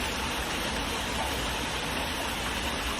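River water rushing over a dam, a loud continuous broadband roar of flowing current, close and steady with no breaks.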